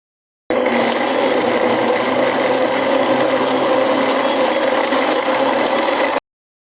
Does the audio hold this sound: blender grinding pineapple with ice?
yes